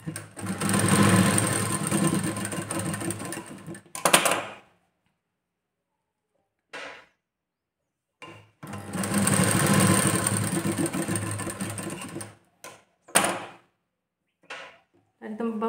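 Two bursts of a sewing machine stitching a joint in a blouse strip, each running several seconds with fast even needle pulses, separated by silence and brief clicks of fabric handling.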